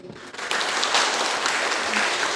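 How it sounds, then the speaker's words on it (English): Audience at a healthcare conference breaks into applause for a speaker, clapping swelling quickly after a brief quiet start and holding dense and steady to the end. "Ladies and gentlemen, please give applause for Dr."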